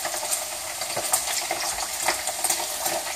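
Slices of ham sizzling and spitting in a hot frying pan, a steady bright crackle with scattered sharp pops throughout, close and fairly loud with no talking.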